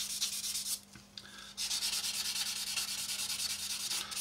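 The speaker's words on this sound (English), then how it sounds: "you can end up sanding down and through it." Sanding a hard super glue seam on a plastic scale aircraft model makes close, rasping back-and-forth strokes, a brief pause, then steady rubbing, without any talking.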